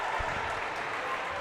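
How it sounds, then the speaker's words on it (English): Basketball fans at a boys' high school third-place game applaud from the stands, a steady wash of clapping and crowd noise throughout that sounds moderately distant in a gym. "The Palmyra fans applauding the effort as well"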